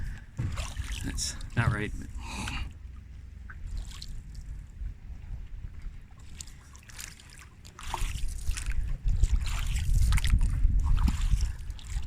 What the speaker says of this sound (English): paddling down with the old canoe